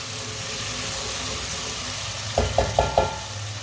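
Tomatoes cooking in a pan for turnip curry give a steady, soft sizzle, with a few quick stirring or scraping knocks near the end.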